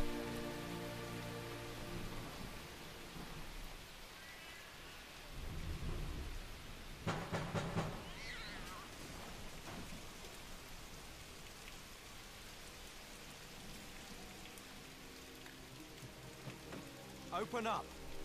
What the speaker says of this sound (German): Es regnet schön und das ist ein cooler Effekt,